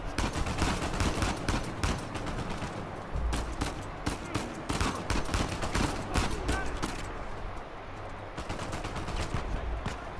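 Dense, sustained gunfire in Uncharted 4, rapid overlapping shots and bursts filling the whole stretch at close range, with a voice talking over the combat.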